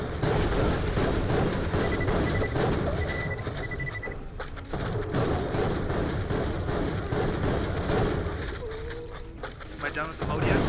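Rapid gunfire from the video game Borderlands: The Pre-Sequel rattles almost without pause in dense, loud bursts for about ten seconds, while a voice talks over the shooting.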